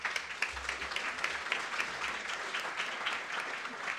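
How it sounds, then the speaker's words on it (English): Audience applause at an economics policy conference, a crowd clapping steadily and fairly faintly for about four seconds with scattered sharper claps. "Let's give them an applause."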